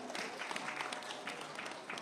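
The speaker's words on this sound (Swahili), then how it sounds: "Makofi mengi kwa kusema." Applause from an audience at a Swahili political speech, a steady wash of clapping filling the short moment, fairly loud and dense.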